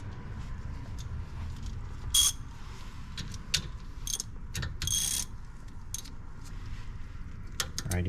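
Ratchet clicking while a bolt is tightened on the brake of a 2008 Acura MDX, scattered short metallic clicks and light clatter, fairly close, over a low background hum.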